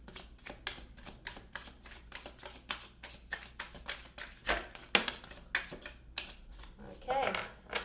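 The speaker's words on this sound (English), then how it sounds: "And one last shuffle." A deck of tarot cards is shuffled close up in a rapid run of crisp, papery riffles and flicks that continue for several seconds, with faint background sound.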